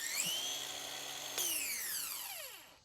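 A Craftsman V20 cordless steel-blade edger running on a 4 amp hour battery, a loud steady high-pitched whine that surges as it speeds up partway through, then winds down toward the end.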